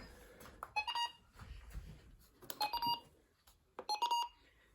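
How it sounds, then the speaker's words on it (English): Short electronic button beeps sound in three small bursts, each a quick run of tones, close and clear against quiet handling noise. "this is also the radio that introduced these kinds of button beeps."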